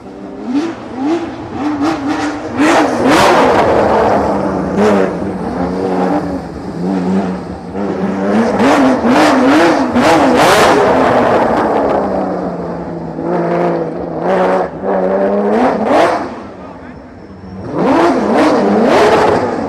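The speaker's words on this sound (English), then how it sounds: "We've got GT4 cars, we've got cup cars, just ragging it round the track" GT4 and cup race cars revving hard around a rain-soaked track, engines rising and falling in loud, repeated acceleration sweeps, with several passes overlapping and brief dips between runs.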